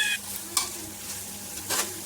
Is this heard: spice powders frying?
yes